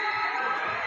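A crowd screams and cheers loudly and steadily for a showman performer, a dense wall of voices that never lets up across the short moment.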